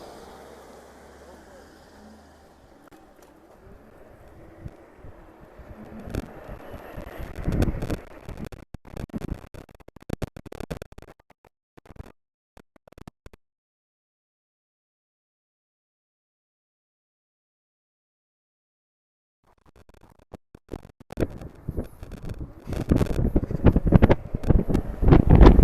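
Wind buffeting the microphone while riding a Begode Extreme K6 electric wheel, a rising gusty rumble with bumps that cuts to silence midway, then returns strong and roaring, with brief talk near the start.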